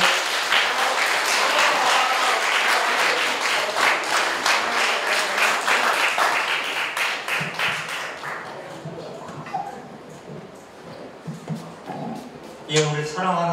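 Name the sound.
applause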